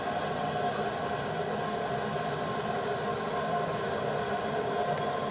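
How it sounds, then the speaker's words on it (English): A running toilet keeps water flowing continuously, making an even, unbroken hiss at moderate volume with no pauses or other sounds. "if you don't know what your toilet sounds like when it's running water, it sounds like this."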